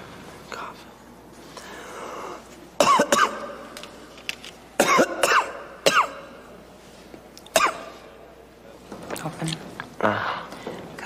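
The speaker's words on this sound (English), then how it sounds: "Cough." Several sharp, loud coughs and throat clearings break out in bursts across the clip, mixed with murmured and whispered speech from people in a quiet indoor scene.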